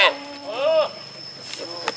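A crossbred Etawah-type goat from Kaligesing stock bleats once, a loud, close, quavering cry, with a steady high-pitched hum and faint barn noise continuing afterward.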